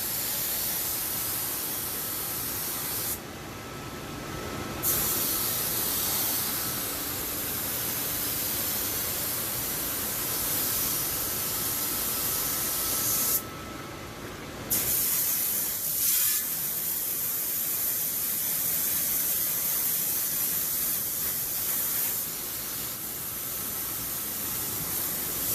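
Steady hissing water spray rinses residue out of a Viessmann boiler for a long stretch, cutting out briefly twice before resuming, close to the microphone, with a short clunk midway.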